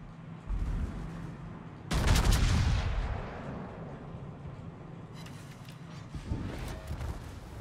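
The main guns of the Tier 8 battleship HMS Hawke fire in World of Warships: a loud, deep booming salvo cracks out and rolls away, followed later by a smaller burst of rumbling gunfire over a steady low background.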